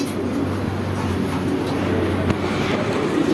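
Pigeons packed into a crowded pigeon shop at a market in Rampura, Dhaka, with a steady low cooing and rustle over an even background hum, no talking.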